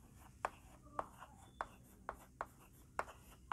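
A hand writes out a calculus solution: short scratchy pen strokes land in a steady series about every half second, close and soft, with no talking.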